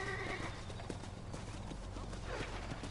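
Horse hooves clip-clop at a steady walking pace in a Western-themed video game, sitting under a constant background hum, with a brief whinny near the start.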